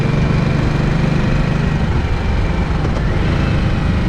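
Steady, loud engine rumble from a 2023 Harley-Davidson Nightster Special on a test ride, with constant low drone and wind roar, no talking.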